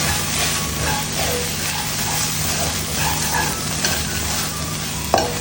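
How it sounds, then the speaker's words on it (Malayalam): Chicken pasta sauce stirred in a hot pan, a steady sizzle with scraping stir strokes throughout and a sharp utensil clack near the end, close and fairly loud, no talking. "നമുക്കിതൊന്ന് ഓപ്പൺ ചെയ്ത് ഇളക്കി കൊടുക്കാം."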